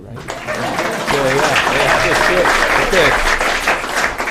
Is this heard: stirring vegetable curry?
no